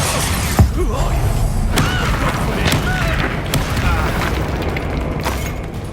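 Spell blast from the Expulso curse in Hogwarts Legacy, a booming burst near the start amid dense, continuous game combat noise and effects, with voices talking throughout.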